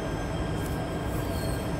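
A Jakarta MRT train runs, heard from inside the car as a loud, steady rumble of rolling wheels with a thin high squeal drifting over it, and no talking.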